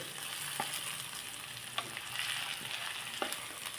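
Stuffed brinjals fry steadily in hot oil in a pan, a constant close sizzle with a few soft clicks of a spoon against the metal and no voices.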